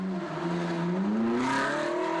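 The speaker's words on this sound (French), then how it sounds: "Et la Ferrari qui reprend sa place dans la ronde." A Ferrari race car runs on the Zolder circuit during an endurance race, its engine note rising steadily in pitch as it accelerates, loud and continuous with no talk.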